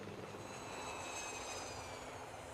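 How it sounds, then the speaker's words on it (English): Steady engine drone of a cartoon helicopter in a Thomas & Friends episode, a continuous, moderately loud whirring hum held throughout with no talking. "and Harold the helicopter."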